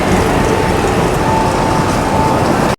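An intercity train standing at a station on the Valencia to Alicante line in Spain gives a loud, continuous rumbling roar with a faint steady whine, close by, with no talk, cutting off abruptly at the end.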